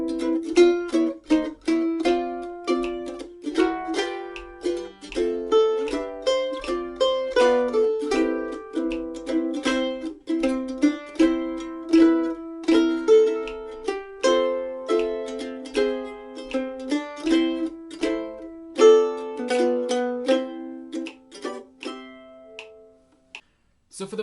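A mandolin plays an advanced chord arrangement, with quick picked and tremolo notes flowing steadily for over twenty seconds. It is close and bright, solo, with no talking.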